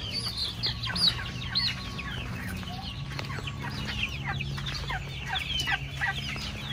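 Farm chickens on a poultry farm in General Santos City cluck and call in quick, repeated bursts over a low, steady background hum.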